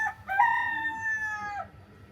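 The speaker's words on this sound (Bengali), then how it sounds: "কি সুন্দর মোরগ ডাকতেছে" A rooster crows once nearby in a home setting, a single long clear call rising and holding before dropping off, with no talk over it.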